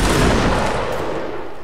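Regiment soldiers let off a musket volley, a loud, dense burst of overlapping shots forming one sustained crackling roar that tails off gradually.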